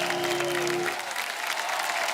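A studio audience at a Diwali comedy show applauds in a dense, steady wash of clapping, with a sustained musical tone sounding underneath for the first second.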